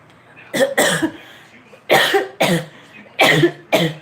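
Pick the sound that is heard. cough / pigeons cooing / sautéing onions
cough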